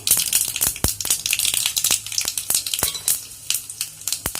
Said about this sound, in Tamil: எண்ணெய் காஞ்சோடனே கடுகு, உளுத்தம்பருப்பு, காஞ்ச மிளகாய், பெருங்காயம் போட்டு தாளிக்கணும்.